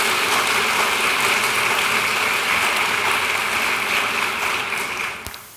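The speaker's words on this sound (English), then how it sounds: "she needs a round of applause for setting up the campus-wide leadership series" Full audience applause at a campus-wide leadership series event, a loud continuous wash of clapping that fades and cuts off near the end.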